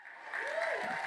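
Audience applause at a labor conference, a short burst of clapping from a crowded room that swells quickly and stays steady.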